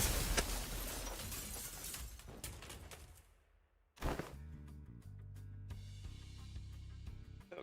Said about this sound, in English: Glass shattering sound effects